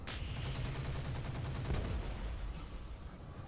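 Heavy gunfire from a PPC and machine guns in the mech combat game Roguepoint, a dense, loud burst with a sharp shift midway, continuing without any speech.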